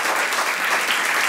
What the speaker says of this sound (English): Those are sad claps right there.